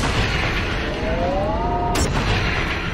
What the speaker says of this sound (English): Thankfully, we have a nice long-range weapon.